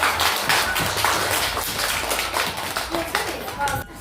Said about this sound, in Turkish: Alkışlayın.